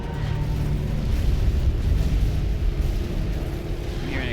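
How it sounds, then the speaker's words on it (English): Deep, continuous rumbling with heavy low booms from explosions in the video game Resident Evil Revelations 2, a loud sustained roar with rolling blasts. "I'm hearing explosions"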